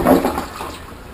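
A hotel toilet flushing, a short close rush of water that peaks at once and then fades quickly.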